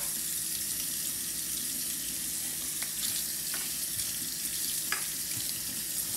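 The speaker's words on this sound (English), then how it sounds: "we're going to put on the water and we're going to scrub." Golf clubs being scrubbed with a brush and Dawn detergent under running water, a steady hiss of flowing water with faint brushing and a few small clicks, no talking.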